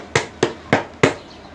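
Four sharp hollow knocks in an uneven rhythm, close by, each with a brief ringing decay, with no voices.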